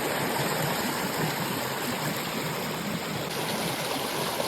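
River water released from a dam rushing past in a broad, steady roar, loud and close, with no pauses and no voices.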